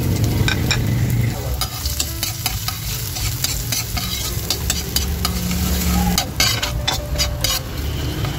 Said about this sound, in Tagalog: Mainit na guys yung ating mantika, kaya ilalagay na natin itong ating bawang